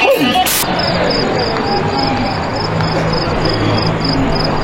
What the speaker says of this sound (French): on entend des grillons